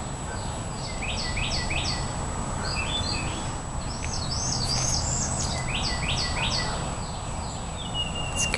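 Several birds sing and chirp outdoors in a calm backyard garden, clusters of quick trilled phrases and a sweeping whistle in the middle, moderately distant over constant insect hiss and faint low rumble.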